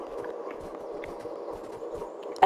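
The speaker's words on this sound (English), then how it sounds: "So has anyone else got a horse" Horse hooves clip-clop at a steady walking pace in Farming Simulator 22, a soft, even series of hoof falls over a constant background hum, with a louder knock at the very end.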